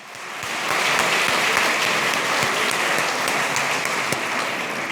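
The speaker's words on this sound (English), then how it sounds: "Let's applaud her and wish her happy birthday." Steady applause from an audience at a freedom rally fills the room, building quickly to a dense, even wash of clapping that holds without a break.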